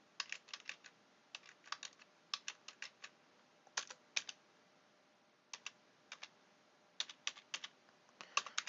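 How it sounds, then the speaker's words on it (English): Fingers type on a computer keyboard in quiet, uneven bursts of crisp clicking keystrokes with short pauses between, close and alone. "Let's type in an actual cardholder name"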